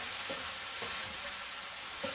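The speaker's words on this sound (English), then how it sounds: "Now it's sizzling, the pan is on a medium heat, and you hear it sizzling because of the moisture from the tomatoes" Tomatoes and chicken sizzle in oil in a pan on medium heat for a balti chicken curry, a steady close hiss with a few soft stirring knocks and no talking.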